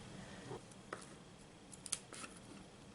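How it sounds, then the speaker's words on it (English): Scissors snip the edges off a handmade card, making a few faint, sparse cuts at irregular intervals in a quiet room. "I am going to cut off the edges after I adhere it"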